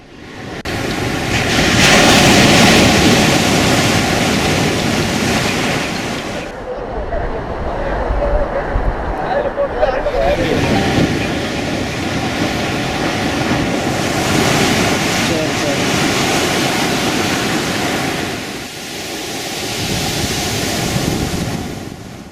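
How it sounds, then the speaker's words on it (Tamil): Rough, storm-driven sea surf pounds a coastline ahead of a cyclone in a loud, continuous roar of breaking waves, with heavy wind buffeting the microphone and surges rising and falling. "கடல் சீற்றத்துடன் காணப்படுகிறது"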